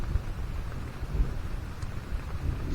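Steady rain falls with low rumbles of thunder during a summer thunderstorm at a campsite, a faint, continuous wash of drops with soft rolling thunder underneath and no voices.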